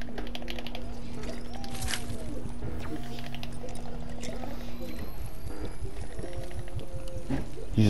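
A Chug Splash item is used in Fortnite, a bright splashing, pouring liquid sound that runs throughout, over faint tonal game music and background clatter.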